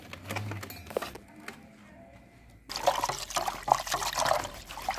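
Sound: pouring homemade desi buttermilk after churning butter

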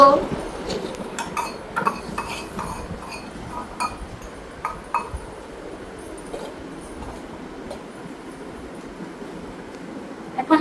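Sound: toy pots and utensils clattering while pretend-cooking vermicelli for a doll

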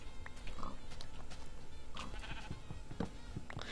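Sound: sheep bleating in video game

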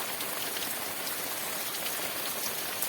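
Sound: heavy continuous monsoon rain on paddy fields

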